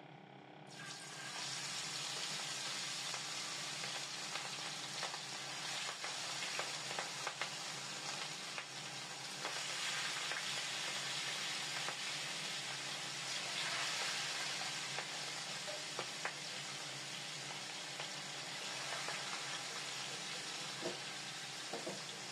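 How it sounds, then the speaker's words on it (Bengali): Steady sizzling of hilsa fish rubbed with turmeric and chili frying in a pan, continuous and fairly quiet, with occasional small pops and crackles and no talking. "এখন মাছগুলি ভাজা হওয়ার আগ পর্যন্ত"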